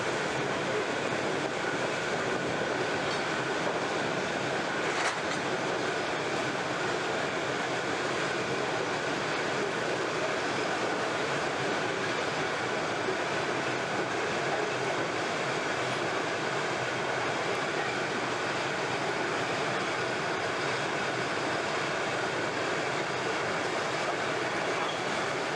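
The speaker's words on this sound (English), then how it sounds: "4011 and sister unit power through Roseneath on train number" Queensland freight train led by locomotive 4011 and a sister unit powering through Roseneath, a dense, steady roar of diesel engines and rolling wagons that stays constant and fairly distant throughout.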